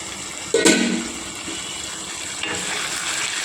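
Egg and potato curry simmering in a pan gives a steady soft sizzle and bubble, with a sharper burst of frying noise early on before settling back to a gentle, continuous hiss.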